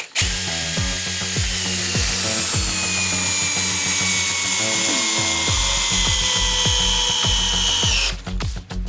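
A DeWalt DCD 100 cordless drill drives a thick 10x160 lag screw into wood, its loud, close motor whirring steadily under rapid rhythmic knocking, then stopping abruptly near the end.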